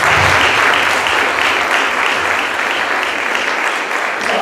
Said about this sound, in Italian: Anche loro facciamo un applauso